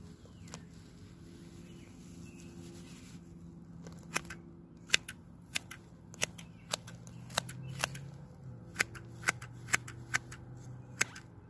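Scissors trim the outside edges of a blue fescue grass clump in a garden with a series of sharp, quick snips, at first sparse and then regular, close against a quiet outdoor background.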